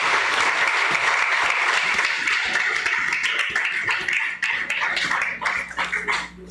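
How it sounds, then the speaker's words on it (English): An audience at a long service award ceremony claps loudly and steadily for the chairman, a thick wash of applause that holds strong, then thins and tapers toward the end. "A round of applause for the Chairman."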